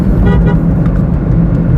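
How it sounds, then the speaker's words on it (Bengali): A car horn sounds on a road, two short honks aimed at a motorbike, heard from inside the car over a loud, steady engine and road rumble. "বাইকটিকে হর্ন দিলাম"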